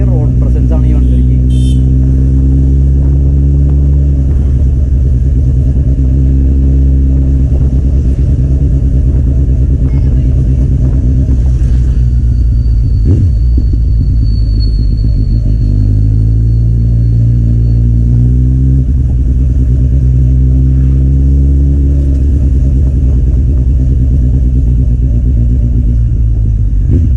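A Kawasaki Z800 motorcycle with an aftermarket exhaust rumbles loudly and continuously on the road, its throaty engine note rising and falling with throttle changes over a long ride.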